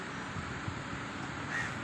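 Crows cawing faintly at a distance while being fed bread and biscuits alongside pigeons, a soft call or two over quiet outdoor background.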